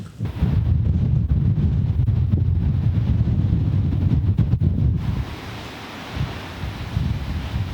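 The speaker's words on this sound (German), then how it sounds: "Die Brandung ist also nicht zu verachten hier." Ocean surf and sea spray break on a windy Norwegian shore on the way to the North Cape, a steady roaring wash heavily buffeted by wind on the microphone, then a slightly calmer stretch near the end.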